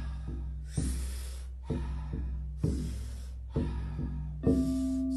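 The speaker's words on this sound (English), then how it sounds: "We're going to be taking about 40 powerful breaths into the body through the mouth." Wim Hof style breathing: a person takes powerful, sharp inhales and lets out soft exhales through the mouth in a steady repeating rhythm, close and fairly quiet.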